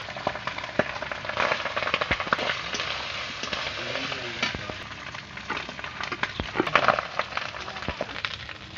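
Rice goes into a pan with cinnamon, bay leaf, cashews and raisins and is stir-fried for fried rice. A steady sizzle runs under frequent scraping and clinking strokes of a spatula stirring the grains.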